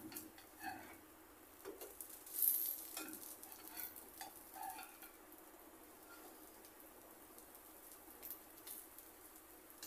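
Spicy toast slices fry in a small amount of oil while being turned to cook the second side, giving a faint, steady sizzle with a few soft scrapes and clicks and no voices.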